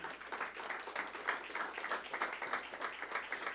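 A church congregation applauds together in a steady, dense wash of clapping that carries on evenly for the whole stretch, with no voice over it.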